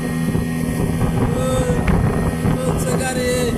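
A speedboat runs along the river at Mainot ghat, its engine a steady close drone under gusting wind buffeting the microphone, with voices faintly present.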